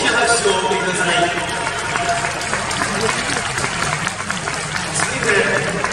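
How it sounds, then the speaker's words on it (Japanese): A large stadium crowd at a Nagoya Grampus YBC Levain Cup group-stage match applauds the ball persons from the Hiroshima University of Economics football club, with dense, sustained clapping and crowd noise filling the whole stretch. "皆さんどうぞ大きな拍手をお送りください"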